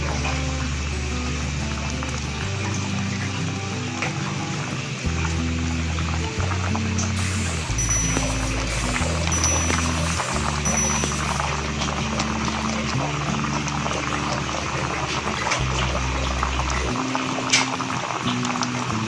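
A pot of carrot murabba bubbles on the stove in a soft, continuous boil. Steady background music with shifting low notes runs under it, and there is no talking.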